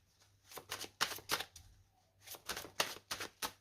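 Tarot cards being cut and shuffled by hand: rapid bursts of riffling card flutters in two clustered runs with a short pause between, close and crisp, without talk.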